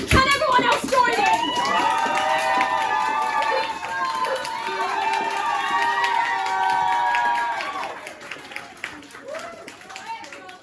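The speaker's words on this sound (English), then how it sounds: "will you please stomp your feet? Can you? Can you please clap your hands?" A stand-up comedy crowd at an International Women's Day show stomps its feet and claps, a busy, dense clatter for about eight seconds with voices and cheers mixed in before it thins out.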